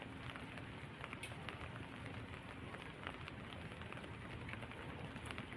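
Steady rain falls, a dense continuous patter of drops on surfaces with a constant hiss, no voices.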